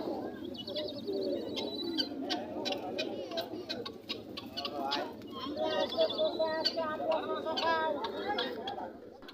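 Pigeons at a busy village pigeon market coo and flutter close by, their soft throaty calls mixed with a steady murmur of people chatting nearby.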